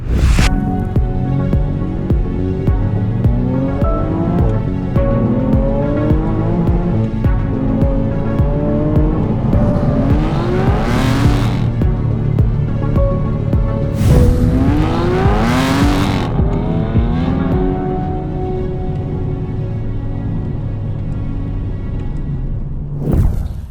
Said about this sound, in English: Typically though, everyone goes for the deep bass, burble, Aston exhaust note